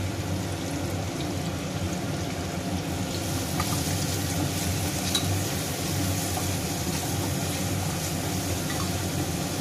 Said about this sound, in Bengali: এদিকে পেঁয়াজটা যে ভাজতে দিয়েছি আমি একটু নুন আর একটু চিনি দিয়েছি